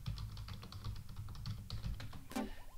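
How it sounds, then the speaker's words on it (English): A password is typed on a computer keyboard in a short, quick run of soft, close keystrokes over a low background hum, with no talking. "I have to type in the password."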